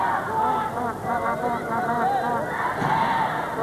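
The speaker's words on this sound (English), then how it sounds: "the good-sized crowd appreciating" Good-sized football crowd at a 1998 under-23 match between Australia and Brazil, a broad steady roar of voices applauding strong defending, continuous and fairly distant with a commentator talking over it.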